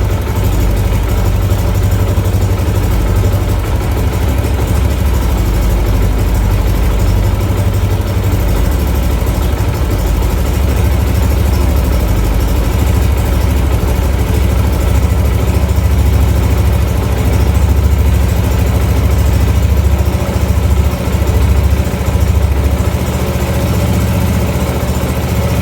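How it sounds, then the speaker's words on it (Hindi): A Yamaha YBR125 motorcycle engine with a butterfly carburetor runs steadily during mixture adjustment, a loud, continuous, even drone with no voices. "RPM ابھی اس کے بڑھ رہے ہیں۔"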